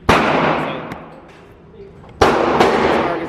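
Taurus G3C pistol firing at an indoor range: two sharp, loud reports about two seconds apart, each with a reverberant decay through the enclosed space.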